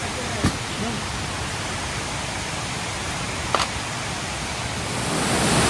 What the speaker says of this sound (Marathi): शेवटी आम्ही बेली धबधब्यावर आलो आहोत